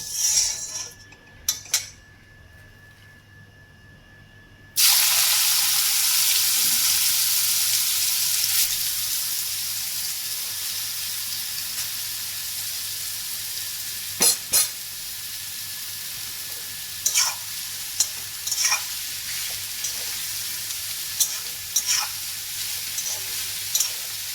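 Radish dropped into a hot wok with a few clinks first, then a sudden loud burst of sizzling that settles into a steady fry, broken by occasional sharp utensil taps.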